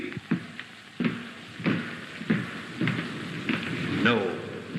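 A rainstorm pounds on in a 1950 horror film of The Fall of the House of Usher. Steady heavy rain carries a series of sharp thunderous cracks and rumbles at irregular intervals, with a voice faintly present.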